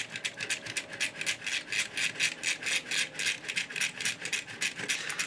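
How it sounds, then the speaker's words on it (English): The small drill on a Takara Beast Wars 2 Galvatron toy tank spins with a quiet, rapid, rhythmic whirring rattle that pulses evenly and steadily throughout, close by and without any talk. "it has a nice little feature where you push this button and the drill spins."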